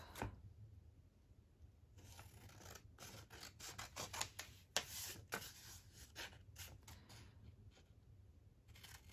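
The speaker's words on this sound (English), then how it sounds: "Now I'll just get my scissors." Scissors snipping through a handmade paper Christmas gift tag during a card-craft session, a run of close, crisp cuts with small scratchy rustles between them, no talking.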